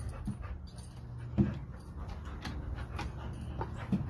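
Dogs playing tetherball pant, whimper and yip close by amid scuffling and a few thumps, with the sound rising and falling irregularly and no clear talk.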